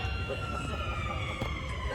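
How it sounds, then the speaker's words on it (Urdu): A siren wails steadily during a live Shab-e-Qadr religious gathering in Chanchalguda, Hyderabad. It sounds continuously over dense hall and crowd noise, with someone talking. "بجنے لگا سائرن،"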